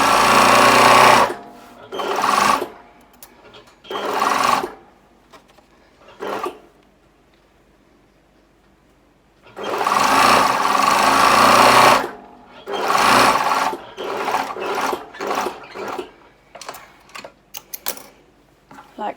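A sewing machine stitching a garment sleeve runs in loud, close bursts of rapid mechanical chatter, several seconds each, separated by quiet pauses and a few short stop-start runs.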